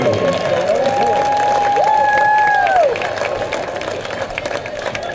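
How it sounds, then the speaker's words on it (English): Football fans at a varsity game clap and cheer in a loud, continuous crowd wash, while sliding whistle-like tones rise over it and then the noise eases off toward the end. "let's give a big round of applause to Christy Francis"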